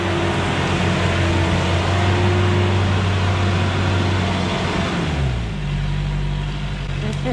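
A Toyota Hilux fitted with larger tyres and higher clearance drives off-road, its engine droning loud and close with a steady hum that drops in pitch near the end as the vehicle slows.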